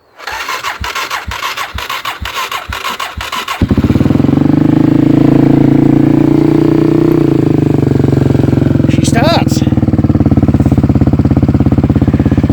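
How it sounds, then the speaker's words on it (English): A budget off-road motorbike's starter cranks in quick rhythmic pulses for a few seconds. The engine then catches and runs loud and close with a steady throbbing note, and a brief higher sound cuts in near the end. "I'll twist the throttle."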